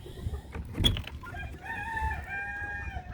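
Chickens in a coop give a rooster-like crow and a few clucks, with a sharp burst near the start, followed by a sustained, tonal call over low barnyard rumble.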